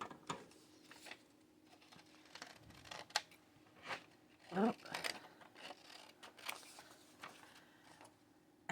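A paper scrap being cut with scissors at a cramped desk: a few scattered, crisp snips and small handling clicks, close and fairly quiet, with a voice talking around them.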